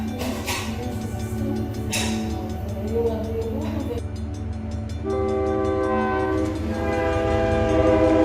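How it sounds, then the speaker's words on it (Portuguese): Maria Fumaça steam train heard steadily with rolling rail rumble, a couple of sharp hissing bursts, then a sustained tonal whistle or horn blast in the latter half, continuous and fairly close. "Eu trago o som da Maria Fumaça e eu volto à infância."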